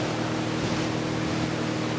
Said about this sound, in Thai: แม่งมีเรือหางยาวเลย